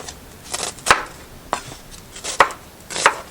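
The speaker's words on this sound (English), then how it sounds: "The last two onions I'm going to slice" A knife slices onions on a cutting board for a tomato stew, giving about five crisp, separate chops at an uneven pace, close and moderately loud, with no talking.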